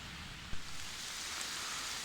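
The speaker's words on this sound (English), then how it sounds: "So the rain is not stopping" Steady rain hisses on a surface during a wet bikepacking trip in the Netherlands, a faint, even wash of noise with one soft thump partway through and no voices.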